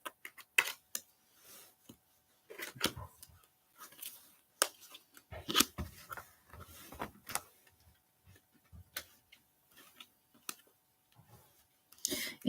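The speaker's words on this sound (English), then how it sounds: "I'm gonna shuffle one more time for Siraj and Harmon." Tarot cards being shuffled in a quiet room, heard as sparse, irregular crisp snaps and riffling clicks that come in short bursts and are separated by near silence.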